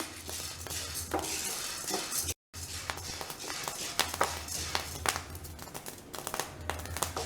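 Wheat flour roasting in a pan, with dry crackles and the steady scrape of a ladle stirring it, close up and continuous, broken by one brief silent gap.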